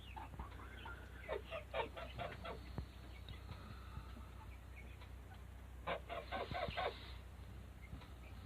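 Chickens cluck around steers on a farm in several short clustered bursts, faint and at some distance, over steady low background noise.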